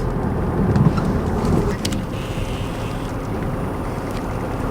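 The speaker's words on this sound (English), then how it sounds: "It's now raining." Steady rain pours down in Cromer, England, in a dense, continuous wash of noise, with a low rumble underneath and no voices, holding at an even, fairly loud level throughout.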